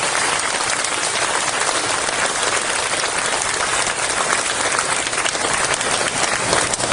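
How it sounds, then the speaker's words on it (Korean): Loud, dense applause fills the hall at a school support agreement ceremony for schools in an aircraft noise zone, a broad continuous wash of many hands clapping without a break and no speech over it. "박수 보내주시기 바랍니다"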